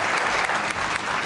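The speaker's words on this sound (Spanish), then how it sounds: "Un aplauso por lo que dijo." Studio audience applauding steadily and loudly during a Spanish-language weight-loss diet program, a dense continuous patter of many hands with no talk over it.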